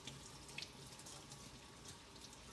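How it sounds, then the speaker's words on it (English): Steady stream of tap water running into a sink while lettuce leaves are rinsed for a roasted chickpea and sweet potato salad, a soft continuous splashing wash with a couple of small clinks. "I'm just going to rinse all of this."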